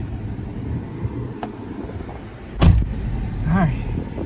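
A Jeep with a rich-running fault idles with its fan belt on, a low steady engine rumble close by, broken by a sharp knock and brief voices.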